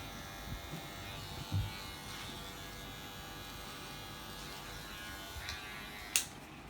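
An electric hair clipper trims hair during a low men's haircut, a steady close buzz humming throughout with small bumps as the blade moves through the hair.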